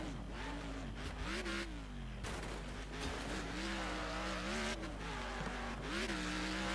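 Race cars in the Next Car Game video game hold a constant engine drone that rises and falls as they shift, with tire noise and skids mixed in and no voice.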